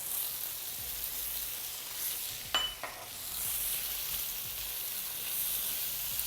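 Tomato paste frying in a pan with caramelized onion and garlic gives a steady, close hiss, with a brief clatter of stirring partway through.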